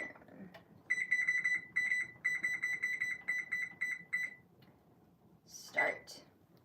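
A kitchen timer on a stove-top setup beeps in rapid repeated bursts of high electronic tones for several seconds, loud and close, then stops; a brief voice follows near the end.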